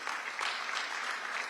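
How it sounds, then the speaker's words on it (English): Brief, faint applause from an audience at a public discussion on peace in Plateau state, a soft patter of scattered clapping heard at a distance. "So please, another round of applause for them,"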